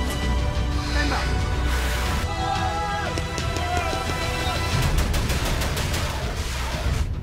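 Gunfire crackles in irregular bursts during a military exercise, a dense run of shots mixed with general commotion and faint voices throughout.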